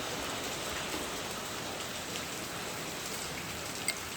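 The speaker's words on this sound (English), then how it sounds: "That's the hail hitting me" Hail and rain fall steadily on the ground outdoors in a dense, even hiss of countless drops, with one sharper hit near the end.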